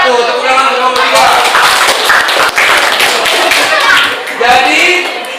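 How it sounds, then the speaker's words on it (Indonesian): A classroom of students applauds a student group, a burst of loud, close, uneven hand clapping with some thumps and a voice talking underneath. "Tepuk tangan untuk kelompok 3"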